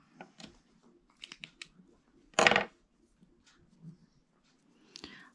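A few sharp, quiet snips of scissors cutting out dragonfly wings for a craft piece, scattered and close, with one louder crinkling burst midway and faint handling noises between.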